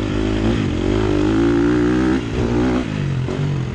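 A KTM 250 SX-F motocross bike races around a track on a hot day, its single-cylinder engine loud and near. The pitch climbs and falls as the rider works the throttle, with no break in the engine note.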